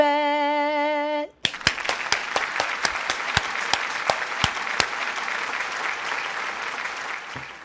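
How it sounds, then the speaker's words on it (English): An audience breaks into applause just after a short tonal jingle ends. The clapping is dense and fairly distant, with a few sharper individual claps standing out near the front, and it carries on steadily to the end. "They gave a round of applause as well."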